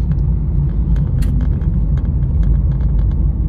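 A 1994 Camaro cruising at about 30 mph with the engine near 1200 RPM, a loud, steady low rumble of engine and road noise heard from inside the car.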